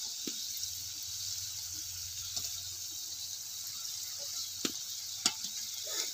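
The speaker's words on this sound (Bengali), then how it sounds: "তো আমার এই সিঙ্গারাগুলো কিন্তু লাল লাল করে ভাজা হয়ে যাচ্ছে।" Hot oil crackles in a continuous bright hiss as singaras deep-fry, with a few scattered pops and light taps.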